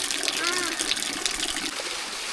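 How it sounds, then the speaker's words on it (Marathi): Spring water flows steadily at Nageshwar Temple in Ambavde near Bhor, a continuous close gush of running water filling the whole moment without pause. "इथून ते पाणी वाहतं आणि याचा प्रवाह तेवढाच असतो नेहमी"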